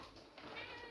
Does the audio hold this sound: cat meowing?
yes